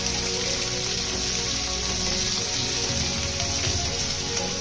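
Pieces of ivy gourd frying in a thick-bottomed kadai with curry leaves, giving a loud, steady, close sizzle that holds unbroken throughout.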